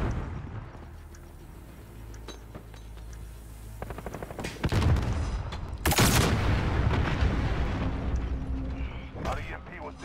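A stun grenade in a shooter video game bursts with a loud sharp blast amid ongoing gunfire and in-game noise, with a person talking throughout.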